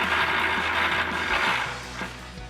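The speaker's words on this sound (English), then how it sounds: "we're going to grab our 18 mil socket on our ratchet to do that" A ratchet with an 18 mm socket clicks rapidly and close up as it loosens nuts on the rear frame horn studs of a Silverado 2500 HD, a steady run of pawl clicks that slows near the end.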